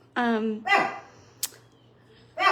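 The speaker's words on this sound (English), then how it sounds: "my neighbors across the street are moving, and so my dogs are going nuts." Several pet dogs bark at home, set off by neighbours moving house across the street. Loud, close barks come in short bursts with a gap in the middle and a brief sharp click between them.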